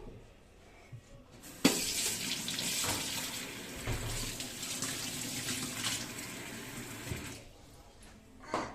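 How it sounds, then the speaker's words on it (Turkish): Tap water runs steadily into a kitchen sink as a child washes hands during baking, a broad continuous splashing rush that starts abruptly and holds close and fairly loud for several seconds before easing off. "Şimdi elini yıkaman gerekiyor."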